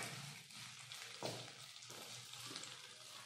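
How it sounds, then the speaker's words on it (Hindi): Peeled boiled potato pieces with chopped green chillies roast in desi ghee in a pan, a steady close sizzle with soft stirring scrapes of a spoon throughout. "आलू को भुनेंगे।"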